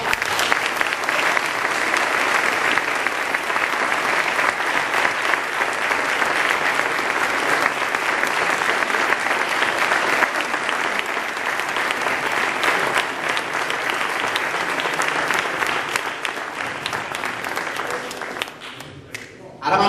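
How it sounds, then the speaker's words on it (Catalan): A group of people applauds loudly at a 2015 sports medal ceremony, sustained dense clapping for nearly twenty seconds before tapering off at the end. "Un fort aplaudiment, va!"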